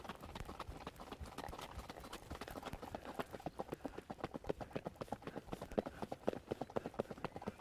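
A ten-year-old stallion, only recently started under saddle, is ridden, and its hooves beat out a steady, rhythmic clip-clop that grows more distinct and regular as the gait settles, fairly faint throughout.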